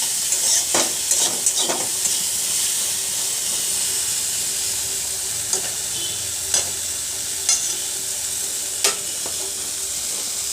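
Cauliflower pieces fry in a pan with a continuous hissing sizzle. Scattered sharp scraping clicks from stirring punctuate it at irregular intervals.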